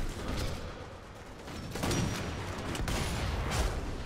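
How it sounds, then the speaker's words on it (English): Machine gun fire from a street battle in Sniper Elite V2 Remastered, a dense, continuous burst of rattling shots with a few louder cracks, moderately distant, alone with no talk. "Machine gun across the street."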